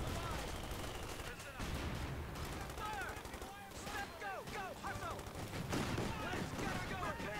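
Video game battle in Company of Heroes 2, with anti-tank guns and small arms firing. Gunfire and explosions crackle without pause through a dense, busy combat soundscape.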